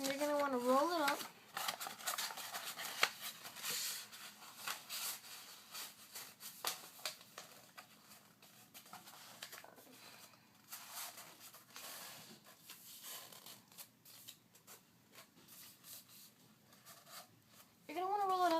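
Plain print paper being rolled up by hand into a tight tube, a steady crinkling and rustling that runs close and continuous, with a voice speaking briefly at the start and again at the end.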